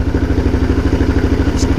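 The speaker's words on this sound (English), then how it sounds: "But I like the exhaust note that it has with the restrictor in, so I just leave it in." A Suzuki DR650 single-cylinder motorcycle with the exhaust noise restrictor fitted idles nearby, its pipe giving a loud, steady, rapid thumping pulse.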